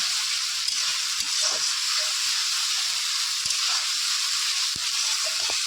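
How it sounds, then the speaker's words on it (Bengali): Ground ginger-garlic spice paste fries in a pan for chicken kosha, giving off a steady, even hiss of sizzling oil with a few faint knocks underneath. "ভালো করে কষিয়ে নেব যতক্ষণ কাঁচা গন্ধ না বেরোবে"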